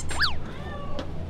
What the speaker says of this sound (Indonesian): Nyari kucing, Ri, kayak suaranya Kursi.